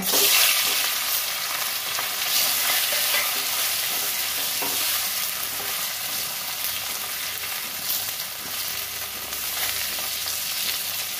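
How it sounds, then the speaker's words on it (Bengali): Potatoes frying in hot oil in a home kitchen. The sizzle is steady and fairly loud and lasts the whole time, with occasional stirring scrapes and no talk. "আলুটা ভেজে নেব।"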